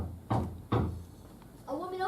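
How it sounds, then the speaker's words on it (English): Two loud knocks on a large castle door, spaced a short beat apart, performed on a theater stage, followed by a voice starting to speak. "He knocked on the door."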